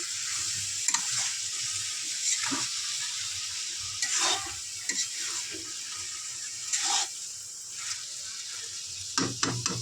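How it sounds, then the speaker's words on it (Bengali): Banana flower and prawn chorchori sizzles steadily in hot oil while a spatula stirs it in a pan, giving a continuous close fry with occasional louder scrapes and clicks and no voice. "ভালো করে একটু নেড়ে চেড়ে নেবো।"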